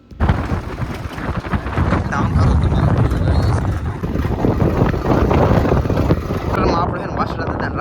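Loud, rumbling tractor engine running continuously up close, with wind buffeting and voices talking over it, on a ride across the salt-pan desert after rain.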